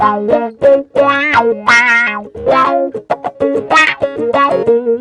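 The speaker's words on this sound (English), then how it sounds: "You get traditional wah-wah sounds with some distortion in there." Choppy, distorted guitar notes through a Rocktron Black Cat Moan wah pedal, with a vocal-like wah sweep, played in short rhythmic bursts and loud up close.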